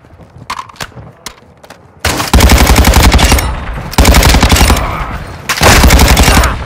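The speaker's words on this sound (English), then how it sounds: "Taking enemy fire!" Loud, close automatic gunfire in multiplayer Call of Duty Modern Warfare 2 comes in three long sustained bursts after a few sharp scattered shots.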